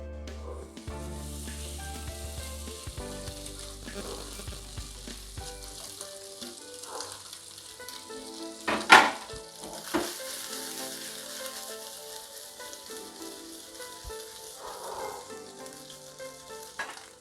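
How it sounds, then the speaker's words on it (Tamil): Eggs fry with spices in a pan, giving a soft, steady sizzle close by, with a few louder clinks and stirring scrapes around the middle, all fairly quiet and without talk. "இப்போ இதை நல்லா வறுத்துக்கலாம்."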